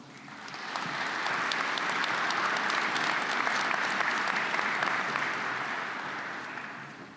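Applause for PhD graduates at an electrical and computer engineering commencement ceremony, a large audience clapping steadily in a hall, swelling in and holding for several seconds before tapering off.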